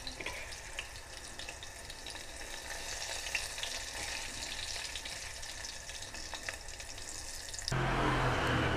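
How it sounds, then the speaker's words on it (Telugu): Cumin seeds sizzle and crackle in hot oil while tempering dal, a steady close frying hiss that grows louder and harsher in the final second. "ఇలాగ అయిన తర్వాత ఇందులోకి మనం జీలకర్ర వేసుకుందాము"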